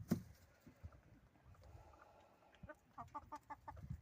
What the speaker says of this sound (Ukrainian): Ось такі кури тут ходять.